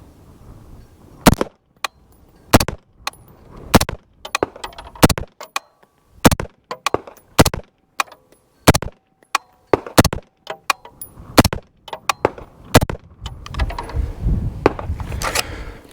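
Ten rounds pushed one by one into a Cross Industries pistol magazine, a series of sharp metallic clicks at uneven spacing, close and loud, with soft handling rustle between them and no talk.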